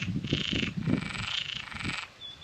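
Many frogs croak in a backyard pool on an off-grid homestead in Portugal, a dense rasping chorus with no talk over it.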